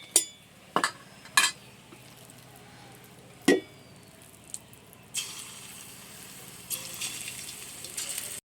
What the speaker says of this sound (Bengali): বেশ সুন্দর করে নেড়ে চেড়ে বড়িগুলো ভেজে নিয়েছি, তুলে নিচ্ছি।